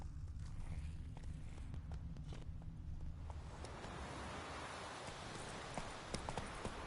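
Roach, the horse in The Witcher 3 on PS4, trots with a steady, close clip-clop of hooves that carries on throughout, the ground texture growing rougher and noisier midway.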